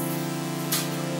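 A Lock&Lock air purifier fan runs with a steady, close mechanical hum and a soft airy whoosh, broken by one brief hiss of air midway.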